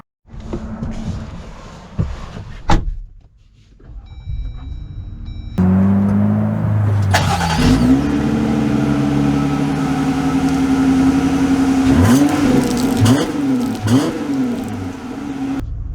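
A 2023 Jeep Gladiator Mojave starts up with a short crank, then its engine settles into a steady idle and is revved a few times in quick blips, heard close and alone.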